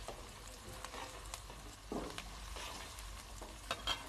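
Onion, green chilli and curry leaves sautéing in a pan for agathi poo and egg poriyal, a soft steady sizzle with a few scraping stirs and clinks, close and fairly quiet, no talking.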